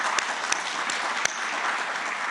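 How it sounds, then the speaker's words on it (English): An audience at a media forum applauds steadily with a dense crowd clapping, and a few sharper claps stand out. "I think that deserves a round of applause."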